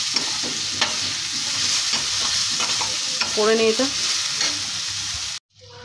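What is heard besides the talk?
bitter gourd and pumpkin frying with mustard seeds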